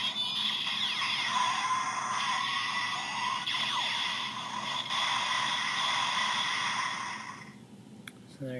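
With its disc loaded, a Power Rangers Super Samurai Bullzooka toy has its trigger pulled, producing a long, bright electronic sound effect with sweeping tones that runs for about seven seconds, then a couple of soft handling clicks.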